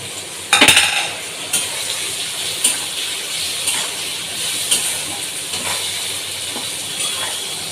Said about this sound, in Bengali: এটা ভালো করে মিশিয়ে নিতে হবে